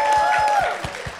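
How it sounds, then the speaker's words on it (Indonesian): Crowd at a Papuan hip hop dance event in Jakarta claps and cheers for a choreographer, a brief burst of applause mixed with whistle-like tones and thumping beats underneath. "Tepuk tangan."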